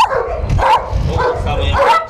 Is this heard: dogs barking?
yes